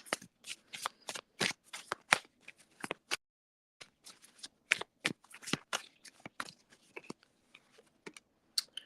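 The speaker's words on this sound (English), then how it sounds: "Pull some of the moon cards." Oracle-style moon cards being shuffled by hand, a rapid close riffle of papery flicks and snaps with a brief pause partway through before the shuffling resumes.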